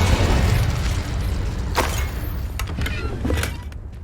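A Confringo blasting spell in the Hogwarts Legacy video game bursts with a loud, booming explosion. The rumble stays dense and sustained, and sharp crackling pops flare up near the end.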